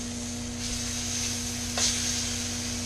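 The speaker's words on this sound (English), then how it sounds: "another 2 minutes of searing" Pork chops searing in a hot pan, a steady close crackling sizzle under a constant background hum, with one brief sharper hiss partway through and no one talking.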